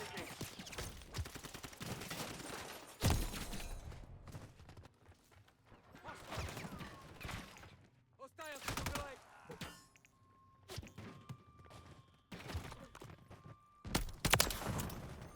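Gunfire from a BP 50 sniper rifle in a shooter game, sharp repeated shots and bursts scattered over dense game sound effects, with a voice talking at times.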